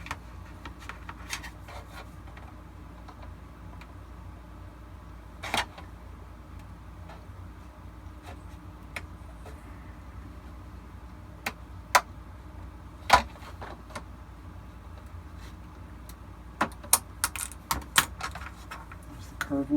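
Straight scissors snipping through Shadow Trooper armor plastic, quiet irregular clicks and sharp cuts scattered over a low background hum, growing more frequent toward the end.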